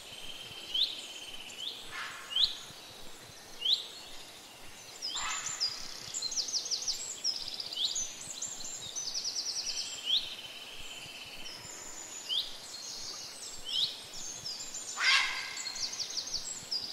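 Birds sing and chirp repeatedly by the Pechora river in Russia within the Fisher Online fishing game, short bright calls scattered over a quiet outdoor ambience with faint insect buzz.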